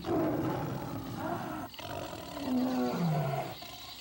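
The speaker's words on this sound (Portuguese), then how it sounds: "Estudos dos ossos que seguram a língua indicam que ele deve ter rugido como um leão." A Smilodon sabre-toothed cat roars like a lion, a loud, close, drawn-out growling roar with rising and falling tone that fades at the end.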